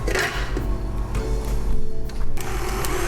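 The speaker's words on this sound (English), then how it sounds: "And you're just going to mix it till it's nice and blended." An electric mixer whirs continuously, close and fairly loud, while blending sugar into shortbread dough under a splatter shield. The motor drone is steady with a few small rattles and clatters.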